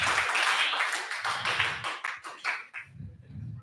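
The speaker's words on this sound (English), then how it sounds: "Can you clap 3 times if you can hear me?" A conference audience at a collaborative finance event claps in response to the host, with a burst of dense applause followed by separate sharp claps that thin out and fade, and then a short stretch of voices.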